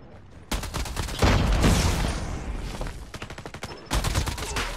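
EM2 rifle fire in a ranked online shooter game, loud rapid automatic bursts with a short pause and a heavy impact, then another quick volley at the end.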